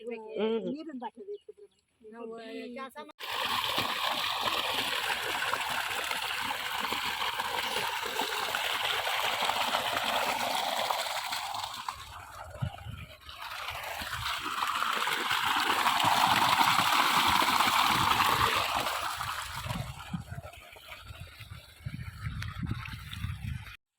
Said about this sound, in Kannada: ಅಲ್ಲಿ ನೀರು ಬಿಟ್ಟಿದ್ರು ತೋಟಕ್ಕೆ ಆ ನೀರು ಸೌಂಡು ಅದೆಲ್ಲ ಒಂಥರ ಕೇಳೋದಕ್ಕೆ ತುಂಬ ಚೆನ್ನಾಗಿರುತ್ತೆ